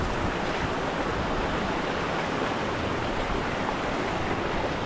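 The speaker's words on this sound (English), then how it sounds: "Back down at the creek, and it's raining pretty heavy." A creek rushes in heavy rain during a wet woodland walk, a loud, steady, dense wash of flowing water and rainfall that fills the whole stretch without pause or voices.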